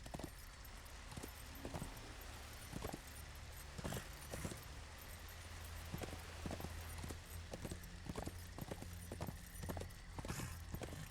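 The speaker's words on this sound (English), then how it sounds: "Oh, I can ride Ruin around here. Hello, horsey." Horse hooves clip-clop in a steady walking rhythm in the video game Darksiders Warmastered, a string of distinct close hoofbeats over a quiet ambient background.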